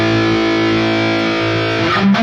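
A Stratocaster electric guitar played through a distortion block, a loud sustained distorted chord ringing out and then fading into a brief scrape of the strings.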